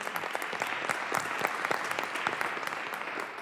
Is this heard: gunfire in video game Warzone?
no